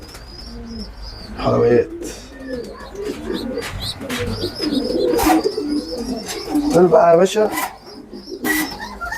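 Pigeon squabs coo throughout a loft, soft throaty bubbling calls repeating close by, while someone talks over them.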